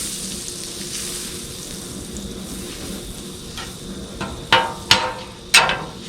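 A pat of butter sizzles in bacon grease in a pan, a steady soft frying hiss with a few sharper spatters and clinks toward the end.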